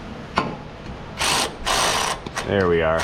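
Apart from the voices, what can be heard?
ratchet tightening a bolt on an FJ Cruiser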